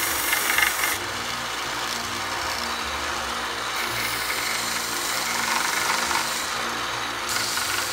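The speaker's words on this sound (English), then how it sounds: "I'll get the bulk of the sanding done probably with this small belt sander" Small belt sander working wood for a carved banana holder project, a steady close abrasive rasping hum that runs continuously for the whole stretch, with slight shifts in pitch as pressure changes and no talking.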